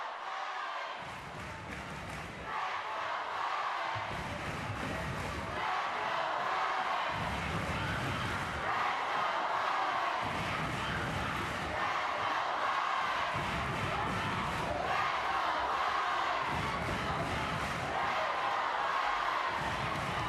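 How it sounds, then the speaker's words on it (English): A packed gym of over 2,000 fans cheers at a high school basketball game between Ray and Miller. It is a continuous roaring crowd that rises and falls in rhythmic waves of chanting and shouting. "Let's listen to the crowd for a second here."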